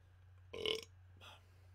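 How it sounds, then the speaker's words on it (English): A single loud burp from a person talking about collecting video games, with a short second belch-like gurgle following, heard close and alone over a faint low hum. "There's the burp."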